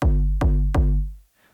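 Dry dubstep synth bass shot from a sample pack, no effects: three deep, loud, humming stabs with harmonic buzz, each starting with a sharp click, the last decaying to silence.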